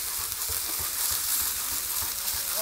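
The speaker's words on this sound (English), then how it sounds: "I'm going to quickly stir it again, some of it looks like it's stuck to the frying pan" A Chinese-style stir fry mix sizzles steadily in a frying pan as it is stirred, with a loud, continuous frying hiss and soft scraping pulses from the stirring throughout.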